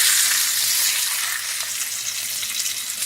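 Chuck roast browns in a hot pan for a Southern pot roast, giving off a steady, close, loud hiss of sizzling fat that eases slightly toward the end.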